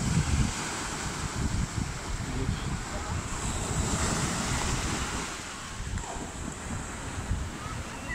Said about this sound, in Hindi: बहुत बड़ी लहर आ रही है।